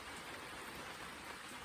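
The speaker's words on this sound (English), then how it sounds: "share the rain if you can hear it here" Steady, dense rain falls on a rainy Sunday, a close, even hiss of countless drops with no breaks and no voices.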